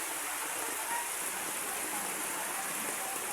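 Steady afternoon rain and rushing floodwater in a flooded neighborhood street in Paris, San Marino, a dense continuous hiss with no clear voices in the foreground.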